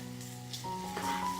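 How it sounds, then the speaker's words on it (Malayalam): Tomatoes and curry leaves sizzle in a hot pan as they are stirred, a short, quiet crackling fry that grows a little louder partway through. "തക്കാളിയെല്ലാം ഒന്ന് വാടി വരുന്നവരെ ഇളക്കി കൊടുക്കുകയോ അല്ലെങ്കിൽ മൂടി വെച്ചിട്ട് കുക്ക് ചെയ്തെടുക്കുകയോ ചെയ്യുക"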